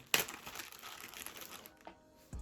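A plastic zip bag holding sponges is handled, giving a sharp close crinkle at the start followed by softer rustling and a thump at the end.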